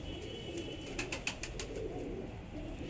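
Pigeons cooing softly in a loft of Punjabi pigeons, including a green-eyed bird, a few low coos rising over a steady background hum with faint chirps, no voices.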